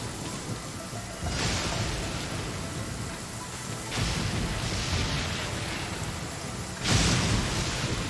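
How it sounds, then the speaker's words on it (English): Steady hiss of heavy rain in Genshin Impact, broken by several deep rolling thunder rumbles that swell and fade, with no talking. "Don't stay out in the rain for too long."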